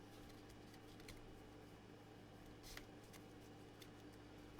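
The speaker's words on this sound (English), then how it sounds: "So we're going to keep shuffling here." Playing cards being shuffled by hand for a card game, quiet riffling and sliding with a few sharper snaps, faint against a steady low hum and no talk.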